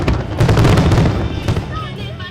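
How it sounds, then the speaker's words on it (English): Fourth of July fireworks at Patriots Park in Charleston, South Carolina, booming and crackling in a dense, loud barrage over a noisy crowd, with several sharp bursts standing out. "America knows fireworks."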